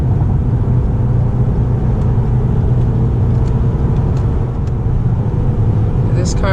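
Lexus GS 200t turbocharged sedan accelerating through quick downshifts, heard from inside as a steady, loud low engine drone and road rumble that holds evenly throughout.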